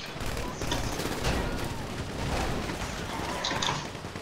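Gunfire at bikers in GTA V, a dense clatter of rapid shots and bursts over a busy street, fairly loud and continuous, with a voice talking now and then.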